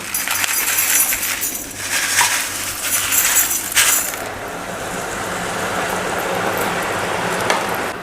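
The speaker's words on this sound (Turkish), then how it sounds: "Ağzımı da koruyorum ve bu lavabo açı döküyorum" Drain opener poured into water, heard as a steady, bright rushing splash that is loud and close for the first four seconds and then fades into a lower, continuous fizzing hiss.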